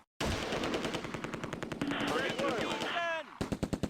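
Dense, nearly continuous machine-gun bursts and rifle fire in the WWII game Close Combat A Bridge Too Far, fighting at Groesbeek, with whistling ricochet-like sweeps near the end, a short lull, then a few separate sharp shots.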